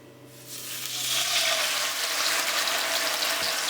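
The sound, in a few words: fish frying in hot pot with olive oil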